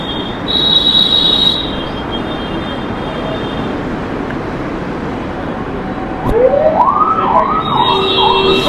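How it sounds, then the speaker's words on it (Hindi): An ambulance siren wails in rising and falling sweeps near the end over a loud, steady rumble of traffic, with a brief high tone earlier. "एम्बुलेंस थी।"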